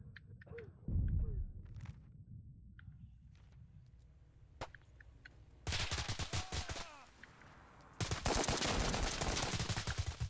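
Bursts of gunfire in the video game Arma Reforger: scattered distant single shots first, then two dense, loud stretches of rapid automatic fire close by toward the end.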